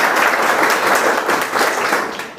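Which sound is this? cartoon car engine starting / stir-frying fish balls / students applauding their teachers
students applauding their teachers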